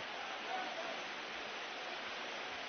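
Steady rain falls on a church temple's roof as a dense, even, hissing wash that carries on without a break, close and fairly loud.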